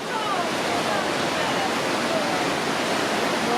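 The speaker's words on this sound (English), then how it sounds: "Heading to a waterfall." A waterfall in Morocco roars as a steady, loud broadband rush of falling water, unbroken and close throughout, with no other sounds standing out.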